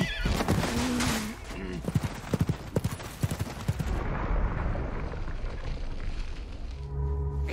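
A horse neighs and whinnies amid galloping hoofbeats as it falls during a chase in a film set in Hokkaido, Japan, with scattered gunfire and a busy dramatic soundtrack underneath.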